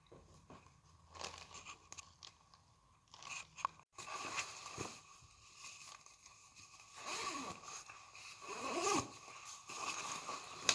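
A down puffer jacket is being sewn, giving a close, quiet mix of rustling nylon fabric, crinkling and short rasping bursts that come and go at an irregular pace.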